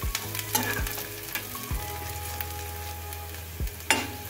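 Green chillies and dried curry leaves fry in a pan for a snack, a steady close sizzle broken by several sharp stirring scrapes and clacks of a utensil against the pan.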